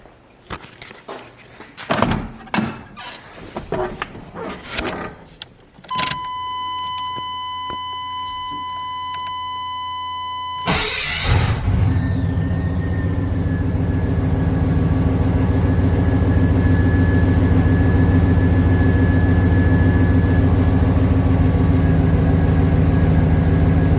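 Chevrolet K1500 GMT400 pickup, fitted with a new throttle position sensor, cranks with a short beeping chime and clunks, then its engine catches and settles into a loud, steady idle that runs alone to the end.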